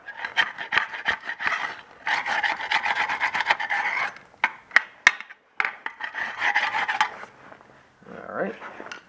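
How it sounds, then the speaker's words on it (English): Mud dauber nests are scraped off a part of a 1955 Willys CJ5 hardtop in close, gritty rasping strokes that come in several bursts with brief pauses between them. "Let's scrape the mud daubers out."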